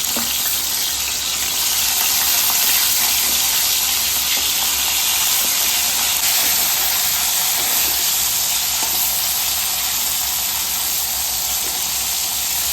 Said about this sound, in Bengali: মা এখানে আলু ভাজা করছে